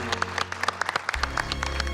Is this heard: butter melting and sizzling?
no